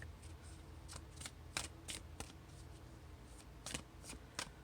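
Tarot cards are shuffled in short riffling bursts, about a dozen quick crisp flutters spaced irregularly over a quiet room hum, close and soft.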